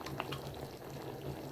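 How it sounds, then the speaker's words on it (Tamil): Rice for eggplant (brinjal) biryani bubbling at a steady boil in a pot, a soft, continuous low simmering texture with faint bubbling throughout. "சாப்பாடு இப்போ கொதிக்குதுங்க."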